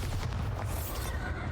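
Bombarda blasting spell exploding in Hogwarts Legacy combat, a dense rumbling boom with crackling debris that rolls on steadily through the whole short stretch, loud and close, with no voices.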